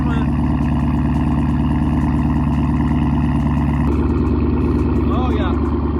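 A loud 2016 Chevrolet Camaro SS idles with a steady, deep rumbling drone that stays close and constant throughout, while a person talks loudly over it.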